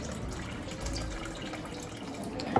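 Water pours into a bowl for a two-loaf sourdough batch, 810 grams of it, a steady close splashing trickle that runs on without pause and ends with a small clunk.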